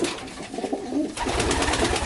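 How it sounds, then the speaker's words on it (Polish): Soft, low cooing from a handheld Ardennes pigeon of the Dolle line repeats in a steady murmur, close by, with rustling and handling noise throughout. "Kapitalny gołąb"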